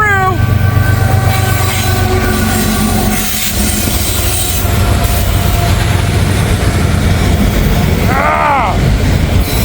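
A freight train with double DPU locomotives rolling past in the rain, heard close and loud: a steady heavy rumble with horn tones at the start, grinding wheel noise, and a squealing wheel sweep near the end.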